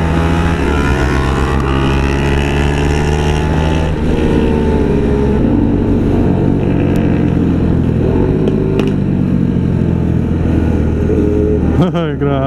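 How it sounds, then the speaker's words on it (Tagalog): Suzuki Hayabusa motorcycles roar past at Clark, Pampanga, with loud, sustained engine drones whose pitch rises and falls as the bikes pass, and other engines idling nearby under occasional talk. "Ay, Hayabusa."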